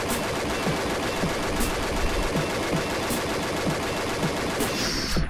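M417 rifle in Combat Arms firing a continuous rapid burst of loud, close gunshots in a dense, even rhythm lasting about five seconds, with no voices over it.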